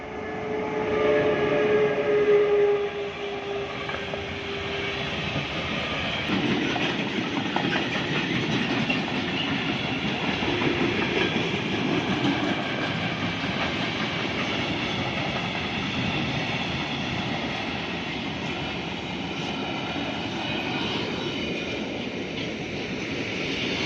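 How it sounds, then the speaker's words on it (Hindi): A train rolls past close by in North Rhine-Westphalia, Germany, a loud, steady rumble and wheel clatter lasting over twenty seconds, with a brief horn-like tone near the start and no talking. "और ये देखें अब आप ट्रेन यहाँ से अब गुजरी है"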